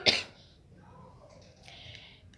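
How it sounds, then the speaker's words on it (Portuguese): A single sharp cough bursts out close to the microphone, followed by faint quiet background sounds. "eu sei que eu tô tossindo muito"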